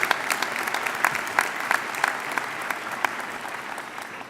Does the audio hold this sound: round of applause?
yes